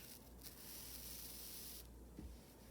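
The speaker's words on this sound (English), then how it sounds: "And I'll use a teeny bit of spray starch" Spray starch misted onto quilt fabric in short hissing bursts, quiet and close, with a longer spray in the middle and a brief tap near the end.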